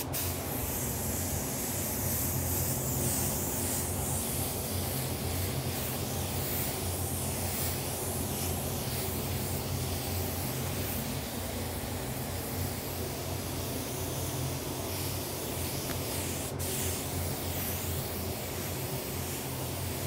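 An OPH 300 spray gun spraying daylight blue paint with reducer gives a continuous, even hiss that runs loud and unbroken for about twenty seconds, with no voices over it.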